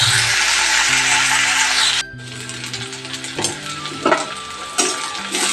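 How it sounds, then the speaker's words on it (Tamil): Ivy gourd sautés in hot oil with a loud, dense sizzle that drops suddenly, then continues more softly under scraping and clattering stirring sounds. "நல்லா இது எண்ணெயிலே கொஞ்சம் நேரம் அப்படியே வதங்கட்டும்"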